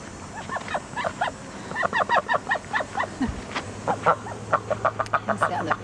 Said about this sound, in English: There's the other chickens in there.